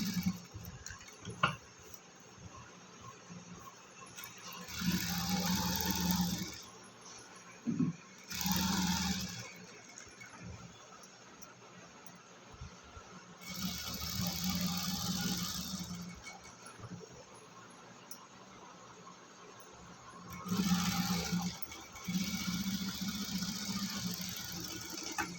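A sewing machine stitches a cotton frock neckline in several separate bursts of whirring, each a few seconds long, with quiet pauses and small clicks between runs.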